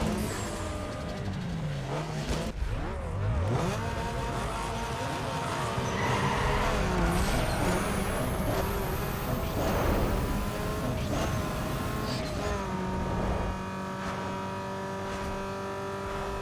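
Peugeot 206 with a 2.0L inline-four, drag-tuned with a turbo in Need For Speed Underground 2, revs hard and loud through repeated gear changes, engine pitch climbing and dropping with tire noise throughout the race.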